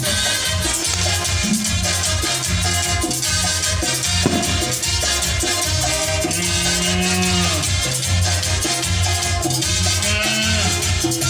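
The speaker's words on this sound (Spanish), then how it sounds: "Esa vaca se puso brava" An angry cow moos during a village festival bullfight in Pirincay Alto, Paute, Ecuador. The bellowing is mixed into loud, continuous festival band music and crowd noise for the full stretch.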